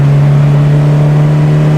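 1967 Ford Cortina GT engine revving at about 4,000 RPM while driving on a country road, a loud steady close engine drone with a strong sustained hum under it, no talk.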